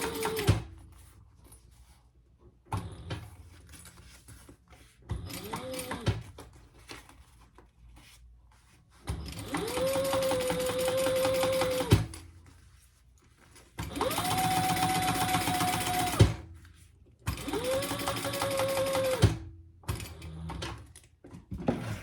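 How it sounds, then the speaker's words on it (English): A home sewing machine top stitching along a zipper pocket on a fabric travel pouch, running in several steady bursts of a few seconds each with quiet pauses between them, close and clear with no talking. "we're just gonna top stitch along this and just pull, make sure they're together"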